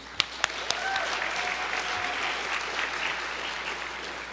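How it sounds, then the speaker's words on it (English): A room full of people at a startup pitch event gives sustained, fairly soft applause, opening with a few sharp individual claps before settling into an even patter. "So let's give them a big round of applause."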